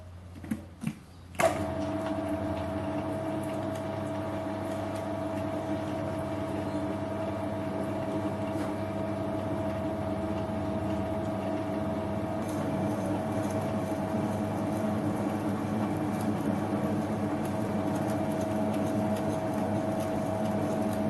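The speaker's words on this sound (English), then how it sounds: "We've got the lathe set on the lowest speed, which is what you should always do when you're knurling" A metal lathe runs in its lowest gear while knurling, giving a steady mechanical hum with a constant tone after a few brief knocks at the start, holding level and fairly close throughout.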